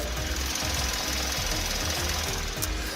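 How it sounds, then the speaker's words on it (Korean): A Hyundai Grandeur gasoline engine idles with the bonnet open, giving a steady, close, even rhythmic thrum with regular low pulses that hold at a constant level for the whole stretch. "영상으로 엔진 소음 한번 담아보도록 하겠습니다."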